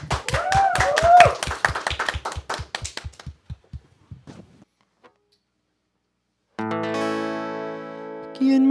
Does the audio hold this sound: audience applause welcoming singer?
yes